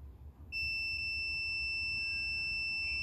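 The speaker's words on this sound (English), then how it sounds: "Beep. That means I got continuity." A multimeter set to continuity emits a steady, high-pitched electronic tone that starts abruptly and holds unbroken for about two and a half seconds. A faint low hum from a car fuse-box diagnosis sits underneath.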